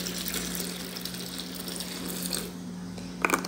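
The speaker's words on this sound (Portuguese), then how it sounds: "Aí já coloquei um pouquinho de água no mop" Water pours steadily into a mop bucket during a house cleaning, a soft continuous splashing stream heard close by with no talking, ending in a few small clinks.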